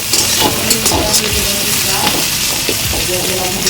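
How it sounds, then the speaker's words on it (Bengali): Onions fry in a wok with a steady close sizzle and crackle, loud and continuous, with occasional stirring scrapes and a voice speaking faintly beneath. "এই যে দেখো পেঁয়াজ দিয়ে দিয়েছি কড়াইতে"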